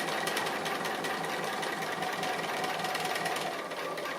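A sewing machine stitching fabric appliqué around a car design, a fast steady mechanical whirr with rapid needle pulses running continuously and close, no speech.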